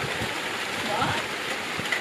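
Rain falls on a greenhouse in early June as a steady hissing patter, even and moderately loud throughout, with faint low rumbling underneath.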